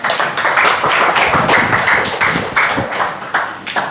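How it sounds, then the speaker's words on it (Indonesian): A class claps for a student in a classroom, a loud burst of rhythmic hand claps with several collective beats across a few seconds. "Tepuk tangan dulu untuk Hari."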